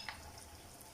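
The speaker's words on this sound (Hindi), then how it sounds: "जी तो ये बड़े अच्छे से फ्राई हो रहा है।" Beef chatkara boti pieces fry on a medium flame with a steady, soft sizzle throughout, low and even, with no voices.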